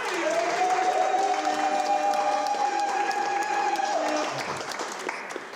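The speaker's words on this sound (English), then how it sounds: "Please give her a round of applause." Audience applause at an Africa Day community event, sustained dense clapping from a crowd with a high tone ringing over it, fading toward the end.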